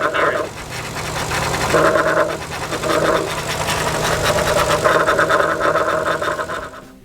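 A 1990 Nissan 300ZX Turbo idles with a noisy, failing power steering pump, a loud steady mechanical drone with a faint whine cycling on and off as the compressor engages.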